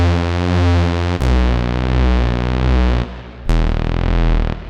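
A 90s tech step synth bass with LFO-modulated pulse width drones in sustained, heavily distorted tones, its timbre sweeping and phasing continuously, with two sharp retriggers and no voices.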